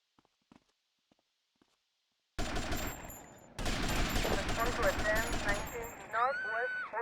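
Gunfire in the video game GTA III, mostly quiet at first, then a sudden loud burst of rapid shots that keeps going with overlapping game effects and a few brief tonal sounds near the end.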